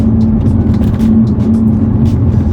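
BMW 335i F30 with a ZF 8-speed automatic accelerating, a loud steady engine drone heard from inside the car, with a low hum that holds without clear breaks between gears.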